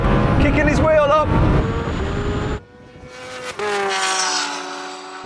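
A Lamborghini Huracan Turbo races a Kawasaki H2R motorcycle, loud engine roar with harmonic pitch sweeps as the vehicles accelerate, a brief drop to quieter running midway, then a rising whine again, with excited voices over it.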